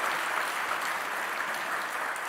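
Church congregation clapping during a sermon, a dense, steady round of applause from many hands that fills the room evenly for a couple of seconds.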